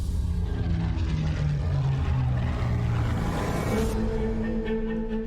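A Supermarine Spitfire fighter's piston engine drones steadily in a flight simulator, a continuous loud propeller hum with shifting pitch throughout.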